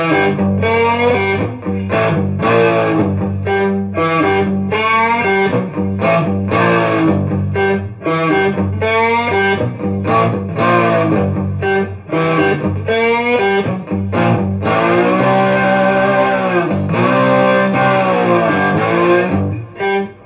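A handmade cigar box guitar played with a loud, distorted, effects-laden tone, steady chords and riffs running continuously for about twenty seconds with no voices.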